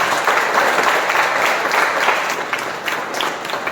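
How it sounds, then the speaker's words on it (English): Audience at a Toastmasters club meeting breaks into steady, dense applause, many hands clapping continuously at close range for the whole stretch. "Can we have a round of applause for that?"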